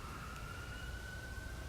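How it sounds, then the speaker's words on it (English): Emergency vehicle sirens wail steadily in the distance outdoors, a thin sustained tone over faint low background rumble, with no talking. "I'm out here amidst the sirens of the day"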